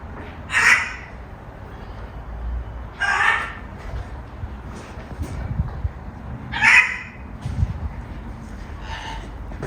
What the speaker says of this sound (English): there's some birds here